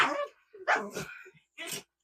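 Dogs barking indoors in a home, a few sharp, loud barks and yips in short bursts with gaps between.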